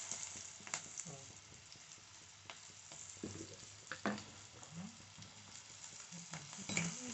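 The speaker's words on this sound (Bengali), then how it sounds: "তো এই আলুগুলো সবার প্রথমে ভেজে নেব।" Cut potatoes frying in a pan with salt and turmeric, a soft sizzle broken by several utensil scrapes and clinks against the pan as they are stirred.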